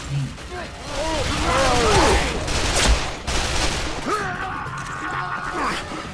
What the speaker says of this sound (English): How do you kill someone by shooting them in the legs?